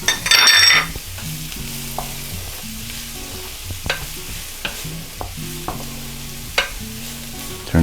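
Onion and garlic hit hot butter in a pan with a brief loud sizzle, then settle into a steady frying hiss while a utensil stirs with occasional clicks, close up and without speech.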